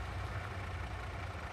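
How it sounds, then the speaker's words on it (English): In Farming Simulator 22, a truck engine idles with a steady low rumble, moderately quiet and continuous for a brief moment, with no voices. "now let's get into our truck here"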